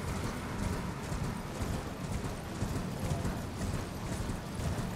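Donkey hooves clop in a fast, steady rhythm over a dense background in the video game Elden Ring, sounding close with no talking.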